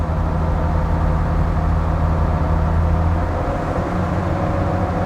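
A Land Rover Defender Td5 engine runs hard on a dynamometer, giving a steady, loud, droning roar with a low engine hum that holds throughout and stays constant.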